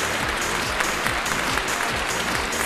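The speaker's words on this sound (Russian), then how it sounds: "Ольга Николаевна Добрянская, ваши аплодисменты" Audience applause fills a beauty pageant hall, steady and dense clapping from a large crowd throughout.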